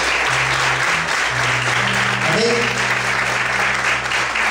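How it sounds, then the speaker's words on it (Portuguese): A church congregation applauds the Lord in loud, continuous clapping over sustained organ or keyboard chords, with a voice briefly speaking in the middle. "Você pode aplaudir o Senhor bem forte, glória a Deus."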